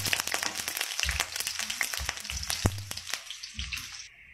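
Garlic and onion sautéing together in a hot pan while cooking spaghetti, a close, steady sizzle with crackling pops and a few louder spits that fades toward the end.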